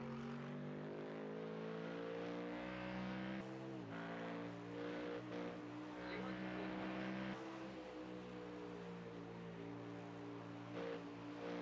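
A Porsche race car runs in a Nürburgring endurance championship race, its engine droning with strong harmonic tones and shifting pitch as it accelerates and lifts, heard steadily and at moderate distance with no talk.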